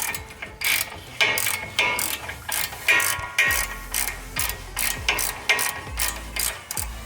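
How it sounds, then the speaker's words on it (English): A socket wrench ratchets repeatedly on the brake caliper bolts of a 2015-or-later Subaru WRX, giving a steady run of close, loud clicking bursts with no talk. "the first step is to get this brake caliper off, which you need an 18 mil socket"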